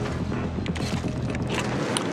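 Fans in the video game Atomic Heart whir steadily with dense low mechanical rumble and scattered creaks, a continuous close machine drone with no talk.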